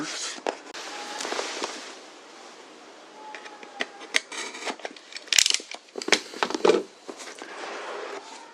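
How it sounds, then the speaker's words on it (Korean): An LG V50S ThinQ phone box is opened by hand, with crinkling, sliding cardboard and plastic rustles and a few sharp clicks and snaps, close up and irregular. "자 그러면 먼저 단말기를 한번 열어보겠습니다."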